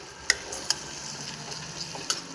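Egg fried rice stirred and mixed in a hot pan, a steady sizzle under a few sharp spatula clicks against the metal, close and fairly quiet.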